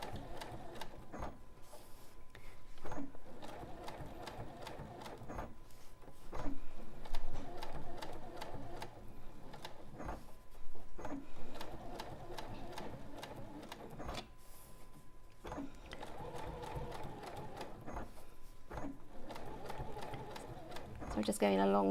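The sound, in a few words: sewing machine quilting appliqued hexagons through all layers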